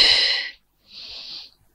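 Breathing during a Pilates exercise: one long audible breath followed by a short pause and a second softer breath, close and airy, with no talking.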